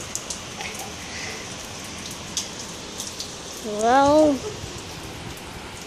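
Rain falls steadily on the first day of summer in windy outdoor weather, a soft continuous patter close by, while a person speaks briefly partway through.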